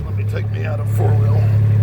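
A four-wheel-drive vehicle's engine drones steadily at low pitch while it climbs a hill on a rural road, with someone talking over it.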